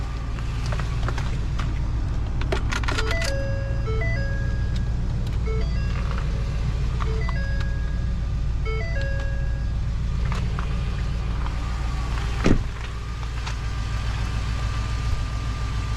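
Turn signal clicking on a Ford F250 Super Duty truck, regular ticks and chimes repeating over a loud, steady engine idle rumble.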